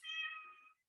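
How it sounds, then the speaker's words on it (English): Domestic cat meowing indoors, a single clear drawn-out meow close to the microphone, fading out after under a second. "Your cat is speaking to you."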